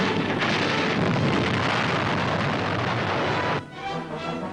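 A barrage from 4.2 mortars firing over advancing infantry, heard as a dense, continuous roar of blasts and rumbling that fills the scene, loud and sustained before easing slightly near the end, with no voices.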